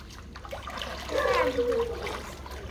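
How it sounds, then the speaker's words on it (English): Pool water sloshes and splashes steadily for a few seconds, as if stirred into waves. It swells a little in the middle, where a faint voice-like tone rises over the churning water. "Oh no, stop making these waves."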